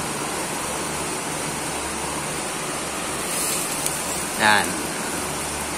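Water drips onto the flat bar ring of a used-oil stove. A steady roaring burner hiss runs throughout, and a short, sharp sizzle bursts out near the end. A voice speaks one brief word.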